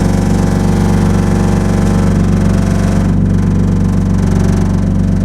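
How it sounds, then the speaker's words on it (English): A BMW M52 engine, swapped in to replace an M54 and not yet warmed up, idles through a new exhaust with a loud, steady, continuous drone and a deep low rumble. "M52 is a little bit louder than previous M54."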